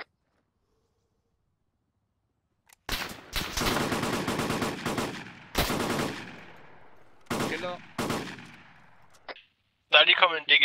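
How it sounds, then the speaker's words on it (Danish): Bursts of gunfire come from the south during a military operation. Loud rapid volleys arrive in several separate clusters after near silence, and the last bursts are sharp and close. "Og vi tager skud fra syd."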